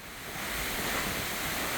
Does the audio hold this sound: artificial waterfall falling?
yes